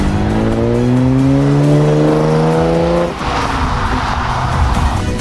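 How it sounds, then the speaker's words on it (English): An Audi S4 with a Milltek exhaust, 460 horsepower, six-speed manual and all-wheel drive, pulls hard while driving. Its tone climbs steadily, then drops into a rougher, broader roar as the gear changes, loud and close. "you'll just listen to the sweet orchestral creation the Miltek exhaust generates"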